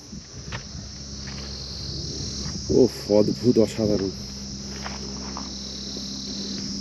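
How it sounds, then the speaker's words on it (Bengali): Crickets chirp in a constant high-pitched drone at a quiet, empty spot in Sittong, with a person briefly speaking partway through. "কেউ নেই শুধু ঝিঝি পোকার ডাক"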